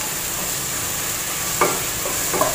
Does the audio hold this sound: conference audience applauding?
no